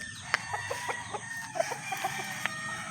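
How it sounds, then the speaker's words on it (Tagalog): Two red roosters fight, heard as scattered clucks and short squawks with sharp bursts and flapping over a quiet farmyard background. "naawat ko yung dalawa kong manok na lalaki na parehas kulay pula"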